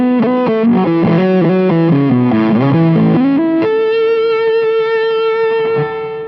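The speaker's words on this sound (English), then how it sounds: "I'll start with the dry signal, then add the reverb, and then the delay." An electric guitar riff plays loud and dry for several seconds, then a sustained chord rings out with reverb and stereo delay, with the echoes trailing off at the end.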